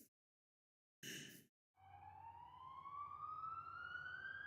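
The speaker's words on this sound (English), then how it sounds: "We hear sirens." A siren rises in a long steady upward sweep, starting after a short burst of noise and a pause, heard from a distance over a low rumble with no talking.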